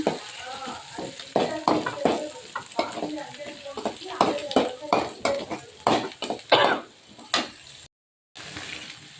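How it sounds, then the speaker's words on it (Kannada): Spinach is stirred into chicken gravy in a pan, with a series of close, rhythmic scraping and sizzling strokes of a spoon against the pan, a few louder clatters, and a brief pause near the end. "ಪಾಲಕ್ ಸೊಪ್ಪನ್ನು ಇದ್ರ ಜೊತೆ ಸೇರಿಸಿ ಚೆನ್ನಾಗಿ ಮಿಕ್ಸ್ ಮಾಡೋಣ."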